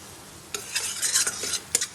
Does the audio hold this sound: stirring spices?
yes